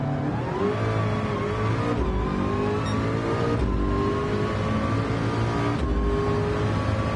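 A McLaren race car engine in a virtual-reality Le Mans racing game holds a steady high-revving drone throughout, with pitch rising and dipping slightly as it shifts.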